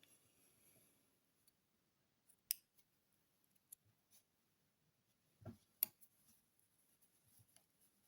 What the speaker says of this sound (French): Et je peux couper mon fil.